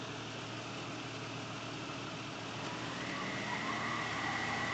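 A 4x4 car engine revs in neutral, running steadily with a continuous hum that rises slightly toward the end, heard from a distance without any talk.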